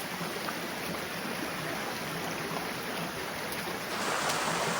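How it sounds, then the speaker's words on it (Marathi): A small stream feeding a waterfall on the Devkund trek rushes steadily and close by, a continuous broadband wash of flowing water with no voices. "हा आता पाण्याचा हा झरा आहे, इकडून येतो आहे."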